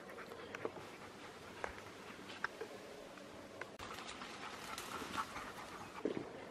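Hunting dogs panting and sniffing as they scent for a pig on a steep hillside, with rapid soft breaths and occasional snuffles and whimpers close by, and no talking.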